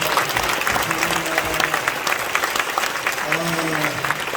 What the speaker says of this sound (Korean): 박수 좀 하십시다.